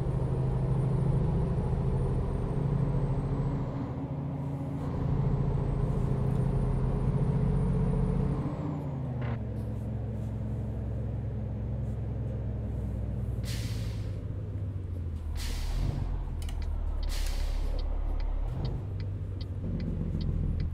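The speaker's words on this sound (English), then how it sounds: "Actually, this truck actually sounds really good." A Kenworth 990 truck engine in a trucking video game rumbles steadily and loud, with gear changes, pitch shifts and short bursts of air-brake hiss later on.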